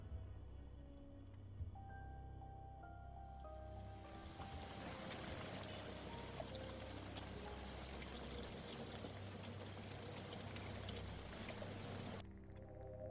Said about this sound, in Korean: 저녁이 되자 이내 장대비가 쏟아지기 시작했다